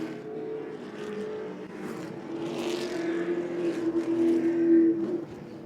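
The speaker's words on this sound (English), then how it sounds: "Griffith, Hellawell, and Barker and company got to double it up, scrub a little more heat back into the tires" Race cars circling the Lee USA Speedway track during a 75-lap event: a steady, fairly loud blended engine drone that swells slightly as cars pass nearer, with no clear talk over it.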